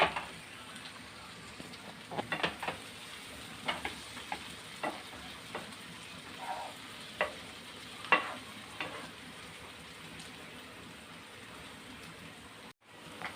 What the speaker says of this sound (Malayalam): നമ്മളെ ചൗവരി വേകുമ്പോഴത്തേക്ക് നമുക്ക് പഴം ഒന്ന് വാട്ടിയെടുക്കാം